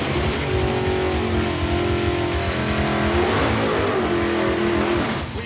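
A 1990 Ford Mustang GT accelerates hard down a drag strip, its loud, close engine roaring continuously and climbing through the gears, with no talk over it.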